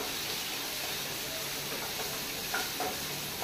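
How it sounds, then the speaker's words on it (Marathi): Tomatoes fry in a pan for a Goan ivy gourd bhaji, giving an even, continuous hissing sizzle at moderate loudness with a couple of faint clicks near the end. "सो फ्राय घालतकूच आतां तातूंत घालता टोमॅटो"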